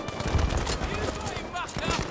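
Gunfire in the Battlefield 5 video game, a dense mix of shots crackling steadily through the whole stretch over a constant loud backdrop, with voices faintly mixed in.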